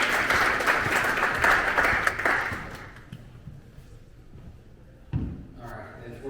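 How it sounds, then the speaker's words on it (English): Audience applause at a financial freedom talk, a dense burst of clapping that fades out after about three seconds, followed by quiet room noise and a few faint knocks. "Can we give a round of applause?"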